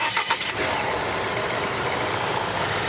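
A Volvo XC40 cranks briefly after a jump start from a portable Auxito AJ01 jump starter, then catches and settles into a steady, close idle with no talk.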